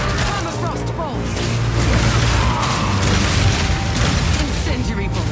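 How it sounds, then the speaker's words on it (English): Crossbow bolts fire in the Path of Exile 2 video game, incendiary, armor-piercing and permafrost shots in loud mechanical bursts and booms over a steady combat din, with a voice talking throughout. "Incendiary bolts. Armor-piercing bolts. Permafrost bolts."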